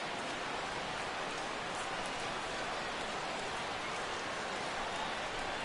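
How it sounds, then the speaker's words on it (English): Steady rain falls during a baseball game in MLB The Show 16, a dense, even hiss of drops on the surface that holds constant and fills the scene with no voices. "The rain, as we've mentioned, coming down fairly steadily here at game time."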